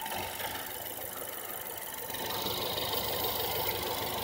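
A car engine idles steadily with its cooling fans running, producing a continuous even hum and whir with a slight rise in fan noise partway through.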